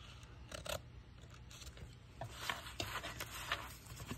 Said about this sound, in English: I think I'm going to cut this to where it's just a flap.